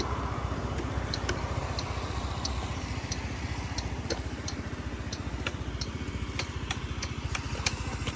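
Honda Lead 110 scooter with a fuel-injected engine runs steadily at idle nearby, a continuous even putter with faint periodic ticking and no talk.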